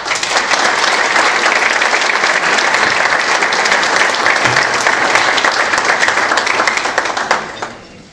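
An audience at a Coparmex business meeting breaks into loud, sustained applause, a dense crackle of many clapping hands that holds steady before fading out at the end.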